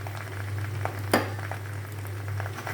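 Hilsa fish frying with cumin paste, a continuous soft sizzle over a steady low hum, with occasional light stirring taps and one sharper clink against the pan, close by and with no talk.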